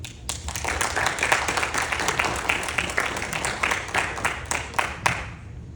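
Audience applause at a candidates night for the 10th Bristol state representative seat, a dense steady clapping from a crowd in a hall that lasts several seconds with no talking.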